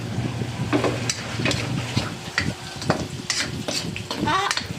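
Onion and ginger sauté for chicken tinola, with a spoon clattering and scraping against the pan over a busy sizzle; the clatter is close and irregular, and a voice is faintly audible under it.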